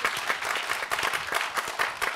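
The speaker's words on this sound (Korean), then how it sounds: "큰 박수 한번 두 분께 쳐드리시고요" A concert-hall audience applauds two guests at a memorial talk concert for Cardinal Kim Sou-hwan, dense, lively clapping that stays full and close for the whole stretch.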